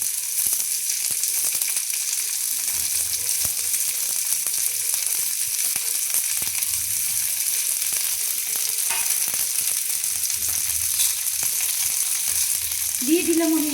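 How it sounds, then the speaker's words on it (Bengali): Carrots and chopped beans stir-frying in a pan for egg chow mein, a steady bright sizzle running throughout with intermittent scraping stirs, alone without talk. "আগে গাজর বিনসগুলোকে ভেজে নিচ্ছি"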